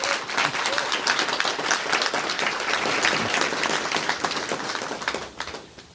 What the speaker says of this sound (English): Can we give Jose a little round of applause here?